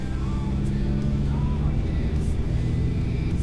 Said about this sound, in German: Er kommt an mir vorbei, der andere LKW.